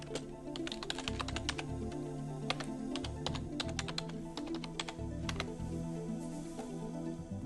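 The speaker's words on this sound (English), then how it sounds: "This is where you'll type in your username and password." Steady typing on a computer keyboard as a username and password are entered at a login box, with dense, close key clicks throughout and a low hum in the background.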